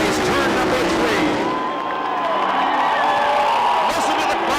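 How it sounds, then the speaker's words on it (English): A crowd at the 1994 Indianapolis NASCAR race cheers for Jeff Gordon as he passes, a loud sustained roar and whoops mixed with the drone of race cars, with a commentator talking over it. "Listen to the crowd as they acknowledge Jeff Gordon when he goes by"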